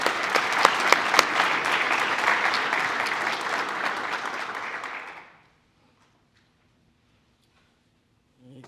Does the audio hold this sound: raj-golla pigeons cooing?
no